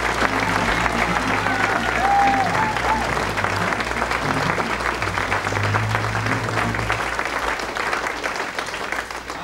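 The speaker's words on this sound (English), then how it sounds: "Can we give them a round of applause?" Audience applause for the stage crew of a 1995 Snow White and the Seven Dwarfs stage production, a loud, sustained round of clapping that tapers slightly toward the end.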